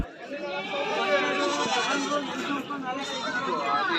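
Sheep and goats bleat repeatedly and overlap amid a crowd's murmur at a livestock market in Bhadravati, forming a dense, noisy livestock chorus.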